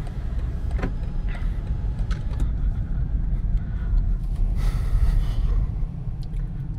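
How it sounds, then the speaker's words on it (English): A BMW 220d diesel's sunroof slides open in the cabin, a brief motorized whir and airy rush rising over the steady low rumble of the car. "Let me open the sunroof here a little to get some more light into the car."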